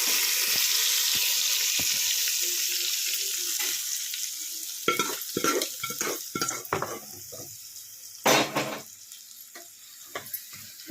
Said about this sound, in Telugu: ఈ తాలింపుని మనం పప్పులోకి వేసేసుకుందాం.